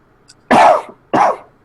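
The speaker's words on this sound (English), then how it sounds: "Next is the coughing man mysteriously letting go in the background." A man coughs twice in the background, two harsh throaty bursts separated by a short pause, loud against an otherwise quiet room.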